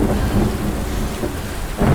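Steady rain with rumbling thunder in the survival video game Under A New Sun, a dense constant hiss with low rolls swelling near the end, no voices.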